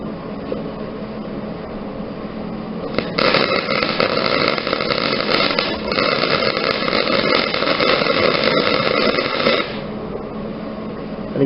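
A large MIG welding machine runs steadily in the background of a workshop, a dense hissing buzz that jumps louder for several seconds as the arc is struck, then drops back to a lower hum, with no voices.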